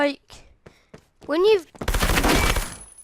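A suppressed MP5 SD submachine gun fires in Roblox Phantom Forces as a rapid string of muffled shots lasting under a second. It comes right after someone briefly talks.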